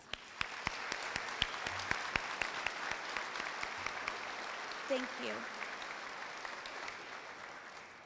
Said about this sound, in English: will you please join me in another round of applause?